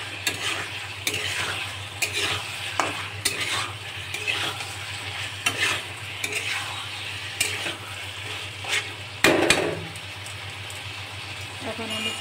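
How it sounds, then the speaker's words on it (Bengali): A utensil stirs fried potatoes into an egg potato curry in a pan, with repeated scraping strokes over a steady sizzle and a louder clatter near the end. "দিয়ে আমি ভালো করে নাড়বো"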